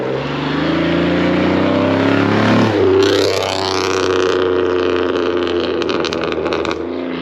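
A loud car at a car meet revs with a deep, rumbling exhaust note, surging in pitch midway and then holding a heavy steady drone close by.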